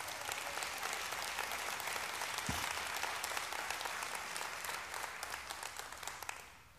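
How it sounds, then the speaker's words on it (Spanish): A church congregation applauds loudly during a sermon, with sustained dense clapping that fades slightly toward the end. "Si va a dar un aplauso, déselo fuerte."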